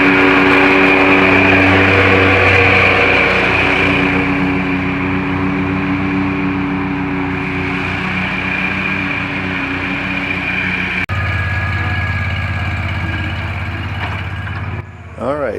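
Walker ride-on lawn mower with a 40 horsepower Vanguard engine running steadily and loud up close while maneuvering around obstacles, a constant hum with a slight shift in pitch partway through.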